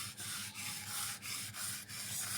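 Sesame seeds ground by hand on a flat stone pata, a steady gritty rubbing repeated in even back-and-forth strokes about every third of a second, close and moderately loud with no talk.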